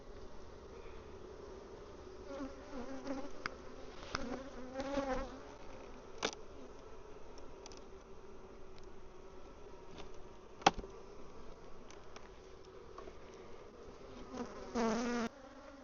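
Honey bees buzz steadily around an open hive during an inspection after a honey pull, their faint drone punctuated by occasional louder passes near the listener and a few sharp knocks from handling the boxes.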